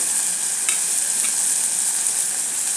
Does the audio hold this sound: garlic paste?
yes